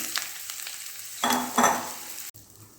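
Mango pieces fried in hot oil with dried red chilli and panch phoron for a sweet-sour mango pickle, giving a steady sizzle with stirring scrapes that swells into a louder crackling burst midway, then a sharp clank.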